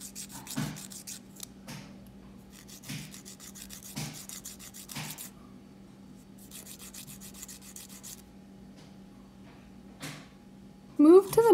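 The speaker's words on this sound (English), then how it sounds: "Rub the filer on the uneven parts of your nail." Nail file rubbed across fingernails in soft, repeated scratchy strokes, short bursts separated by pauses, with a steady low hum in the background and a brief voice near the end.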